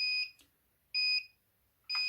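Low-battery voltage alarm on an Amewi AM10B RC buggy, triggered at 7.8 volts because it is set to sound below 9 volts for a 3S LiPo pack. Three loud, evenly spaced electronic beeps play close up, alone and without speech.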